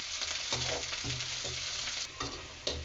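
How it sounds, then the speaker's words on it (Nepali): Chopped chillies with crushed garlic sizzle and fry in a pan while being stirred, a steady close hiss broken by repeated scraping strokes of the spoon, with no voices. "अनि काटेको खुर्सानी यसलाई राम्रोसँग चलाउनु।"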